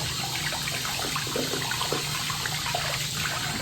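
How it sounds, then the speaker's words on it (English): Water sprays and splashes steadily, close by, as a person wets their hairpiece and hair at home, a continuous hissing wash with no talking. "I'm gonna have to spray some water in there as well."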